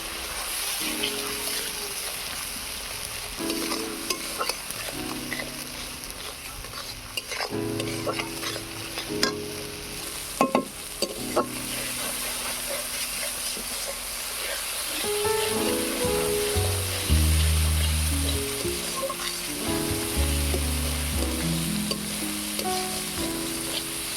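Onion, ginger and garlic paste fry in hot mustard oil for tel koi curry, a loud continuous sizzle with repeated scraping and stirring strokes of a spoon against the pan, close up and without talk.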